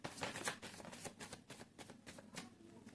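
Tarot cards riffled in a quick shuffle, a run of crisp papery flutters and soft slaps repeating close to the listener at a steady pace, with no voice.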